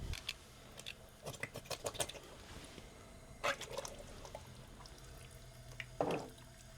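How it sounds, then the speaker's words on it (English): Canned beans with their liquid tipped into a pot of off-grid chicken chili, giving a few soft plops and wet glugs at close range amid quiet clinks and pauses. "Start adding our beans. I'm going to add the liquid in there too."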